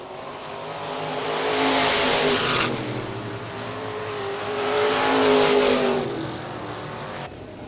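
IMCA modified race cars on the Hartford Speedway oval roar past in two loud waves, engines swelling and fading as the pack sweeps by, with a steady motor drone between passes.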